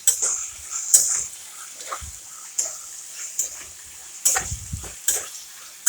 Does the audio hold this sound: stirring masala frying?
yes